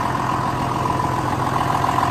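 A John Deere 6920 tractor's large diesel engine idles steadily nearby, a constant low rumble with a mid-pitched drone and no change in speed.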